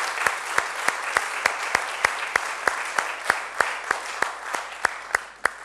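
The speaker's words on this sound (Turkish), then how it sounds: "Fatih'i bir alkışlayalım Allah aşkına" A Turkish TV studio audience applauds a guest named Fatih, with steady, evenly spaced claps ringing out clearly over a dense wash of clapping for several seconds.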